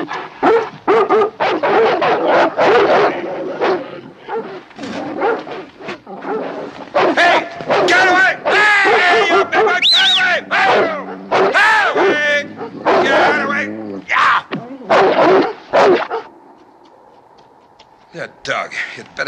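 Several dogs in a film of The Call of the Wild bark, yip and whimper over and over, loud and close, in rapid bursts mixed with voices before a quieter ending.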